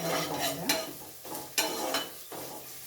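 Two chopped onions fry in a pan for kaju masala, sizzling steadily while a spoon stirs and scrapes through them in several distinct strokes, close and fairly loud with no talk.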